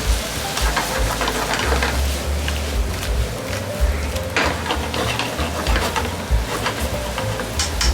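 Oyster yakisoba is stir-fried over a high flame, giving a loud, continuous sizzle with scraping and tossing clatter from the stirring, close up and steady throughout.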